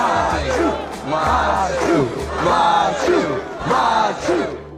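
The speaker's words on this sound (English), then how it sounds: "The USA chant is common in sporting events where the USA goes against another country." TV sitcom crowd chants "USA" in loud, rhythmic bursts, each shouted phrase rising and falling in a steady repeating pattern, close and full.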